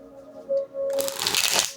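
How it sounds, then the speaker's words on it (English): Tarot cards being shuffled by hand: a sharp, dense riffling burst begins partway through and continues to the end, close and fairly loud, after a soft tonal hum at the start. "I love the way these cards feel when I shuffle."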